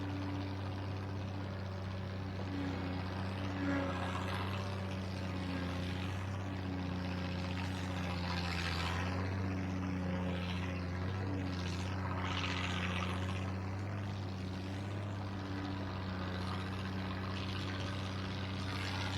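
The engine of a piece of hay equipment runs at a steady idle, a continuous low droning rumble with a faint rattle that stays even throughout, with no talking.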